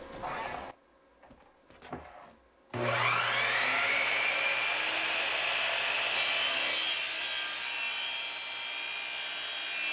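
A chop saw spins up and cuts through wood, powered from a battery system, with a loud steady whine and grinding that holds for about seven seconds after some brief quieter handling noises.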